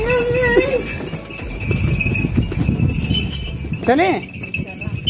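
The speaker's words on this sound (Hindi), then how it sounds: "गाइस यहाँ पर बकरियाँ आ चुकी है गेहूँ खाने के लिए" Goats bleating near a temple where they have come to eat wheat, with a short bleat early and a louder wavering bleat near the end, close by under ongoing talk and background noise.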